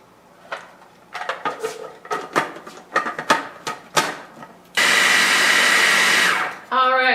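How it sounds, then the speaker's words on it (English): Food processor blending a tahini mixture, a loud steady whirring motor running for about two seconds after a string of clattering knocks and taps, then a brief restart. "Simply add it to your food processor. And then we're going to blend it for about another minute until the tahini is worked in"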